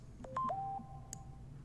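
A phone gives a few short electronic beeps and tones in quick succession, one held briefly, followed by a faint click, heard at moderate level against a low background hum.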